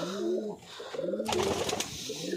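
A male Dobaj pigeon cooing up close, a few rolling throaty coos repeated in a steady rhythm, with a brief burst of flapping or rustling in the middle.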